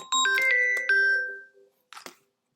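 A mobile phone rings with a short, bright electronic melody of chiming notes lasting about a second and a half, followed by a brief quieter blip, heard close up with no talking.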